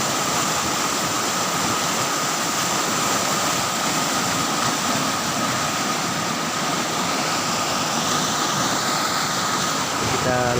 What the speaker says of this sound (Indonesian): kita akan terbawa di arus sungai ini karena di sini arusnya sangat besar